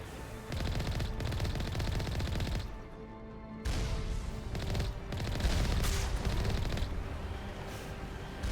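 Sustained automatic turret fire from a vehicle being driven in the video game Mass Effect 1, dense rapid bursts that run loud for a couple of seconds, drop out briefly, then resume through the rest of the passage.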